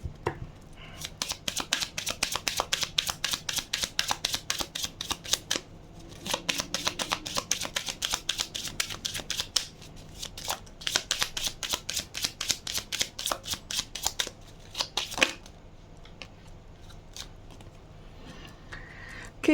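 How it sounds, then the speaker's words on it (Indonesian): Tarot cards are shuffled by hand in long runs of rapid crisp riffling, with brief pauses between bursts, close and fairly quiet. "Tadi kartunya jatuh"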